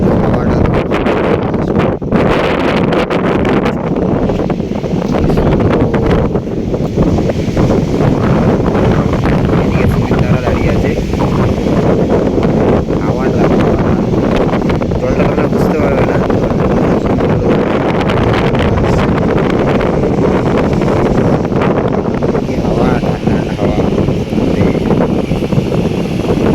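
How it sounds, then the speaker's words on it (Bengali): Strong wind buffets the microphone in a steady, loud roar at the sea beach in Digha, with a dense broadband rush that may hide waves below, continuing without a break. "বাইরে প্রচণ্ড লেভেলের হাওয়া দিচ্ছিল"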